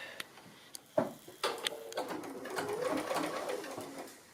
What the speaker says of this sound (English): I'm going to go ahead and stitch that with the pins so that you can see what I'm doing there